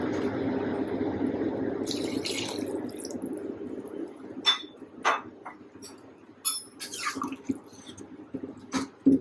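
Water is poured into a simmering eggplant and lentil bori curry, a soft steady trickle at first, followed by a few clinks of a utensil against the pot.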